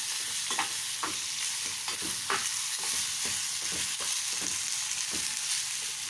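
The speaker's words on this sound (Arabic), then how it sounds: "لسان العصفور اهو بنحمره" Orzo pasta and onion fry in a pan for restaurant-style basmati rice, a steady close sizzle broken by repeated scraping stirs at an uneven rhythm.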